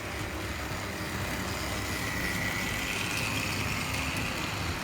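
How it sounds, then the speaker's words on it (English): A pair of Tri-ang Hornby model locomotives climbs an incline on a radius curve, including an R.869S Battle of Britain Class Winston Churchill. Their electric motors give a steady, continuous whirring hum with an even level throughout. "Again, just listen to the sound of the motors."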